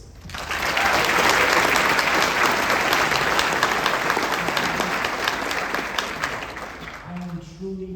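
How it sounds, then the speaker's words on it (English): A crowd at the South University PA class of 2025 graduation ceremony applauds the graduates, with loud, sustained clapping that swells within the first second, holds steady and fades slightly near the end, with a voice rising above it at the close. "Please give a big round of applause to all these graduates."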